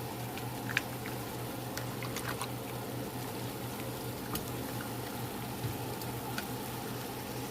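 Quiet, steady bubbling and low rumble of a pot of water at a boil, with scattered faint pops and clicks, no voices.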